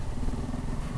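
A BMW G 310 GS single-cylinder motorcycle engine drones steadily at cruising speed on a backroads ride, a close, rumbling low pulse with wind noise.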